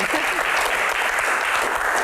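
Steady audience applause at a disaster-management Q&A forum, a dense continuous wash of clapping from a room full of people, loud and close throughout the brief moment.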